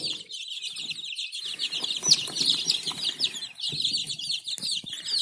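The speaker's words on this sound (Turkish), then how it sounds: "Böyle bir civciv. Bir tanesi bu." Many high, shrill chick peeps overlap in a constant busy chorus, close by, with faint rustling and scratching underneath.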